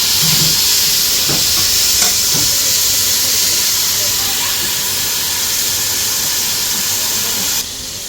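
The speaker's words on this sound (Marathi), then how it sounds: "आता ह्यामध्ये मी टमॅटो छान बारीक केले ते घालून आणि छान त्याची भाजून घेते." Chopped tomatoes frying in a pot for one-pot hotel-style veg biryani, a steady loud hiss and sizzle with a few faint clinks, dropping in level near the end.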